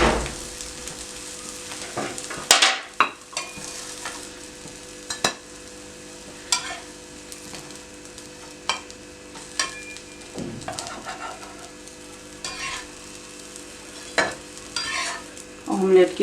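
Bread omelette slices frying in a pan, a low steady sizzle close by punctuated by repeated sharp clinks and scrapes of a utensil against the pan, with no speech.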